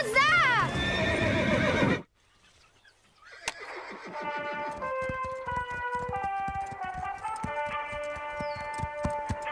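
A loud, shrill whinny from a horse terrified by a storm rises and falls, then a brief hush before a steady patter of hooves and chiming tones continues.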